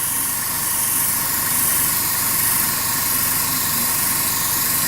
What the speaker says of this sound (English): with an airbrush, you obviously can get quite a lot more done quite quick